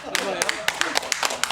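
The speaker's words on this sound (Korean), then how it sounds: "박수" A short burst of applause, a handful of people clapping quickly and close by, lasting just over a second.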